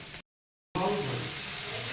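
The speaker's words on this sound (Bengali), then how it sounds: "আলুটা একটু মশলাটার সঙ্গে একটু ভাজা ভাজা করে নিচ্ছি" Potatoes fry with spices in a pan for a spicy Bengali crab curry. The sizzle is steady and close, and it starts after a brief silent gap at the beginning.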